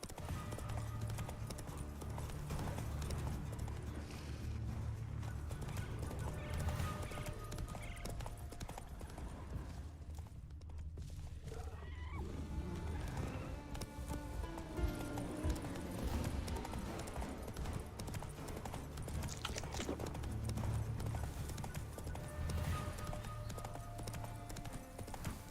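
Hooves clip-clop at a steady gallop in The Witcher 3, a continuous rhythmic pounding over game music and ambience with an occasional whinny, lasting throughout.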